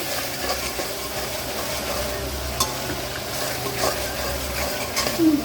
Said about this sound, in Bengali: পেঁয়াজ কাঁচামরিচ দিয়ে কষিয়ে নিচ্ছি ভালো মতো